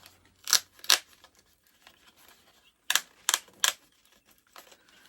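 Scissors snip through card stock for a handmade fairy glade craft card, two crisp cuts close together, a pause, then three more sharp snips, close and fairly loud with no talking.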